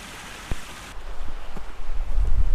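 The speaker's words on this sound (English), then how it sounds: "It's not the biggest waterfall, but it's a waterfall." A small waterfall on the Isle of Skye rushes and splashes nearby, a continuous watery roar that grows louder and more turbulent toward the end.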